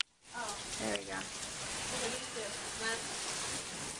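Rain falling outdoors, a dense, steady hiss of drops close by, with a faint voice briefly murmuring underneath.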